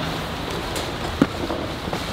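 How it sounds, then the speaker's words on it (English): Rain falls steadily outdoors during a theater set load-in, a broad, even hiss with a soft thud partway through. "Why is it always raining during load-in?"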